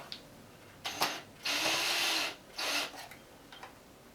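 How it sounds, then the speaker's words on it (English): A power driver or screwdriver removes screws from a Sony CFS-W50 double cassette player, running in two sustained whirring bursts with short clicks and rattles between them. The sound is close and moderately loud, with no talk. "so now we're going to just get our handy dandy screwdriver, okay? Screwdriver. Yeah. And just unscrew this."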